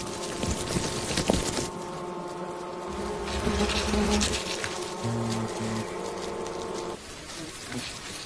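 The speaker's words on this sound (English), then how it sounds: "The hornets pay little attention to the few surviving bees." Dense, continuous buzzing of hornets swarming close by as they attack a bee hive, a loud droning hum with scattered clicks and thuds underneath.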